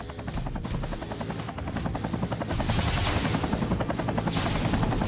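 Helicopters in the video game Mechwarrior 3 beat with a fast, rhythmic rotor chop that grows louder and closer, with bursts of bright noise flaring in over the pulsing thrum.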